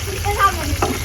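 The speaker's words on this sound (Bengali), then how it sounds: "তো পেঁয়াজটা ভাজবো" Onions frying with meat in a pan, cooked outdoors on a rooftop: a close, loud sizzle with scraping stirring strokes and a low background hum.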